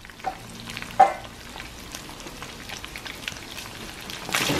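Chorizo fries in a pan while nopales, potato and onion are being cooked, giving a quiet, steady sizzle with scattered soft pops and crackles throughout.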